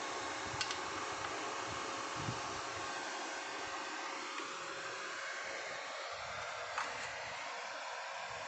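The cooling fan inside a Lakoni Basic 123ix welding machine runs with a steady, moderate airy whir and a faint constant hum, nearby and uninterrupted, with occasional small clicks.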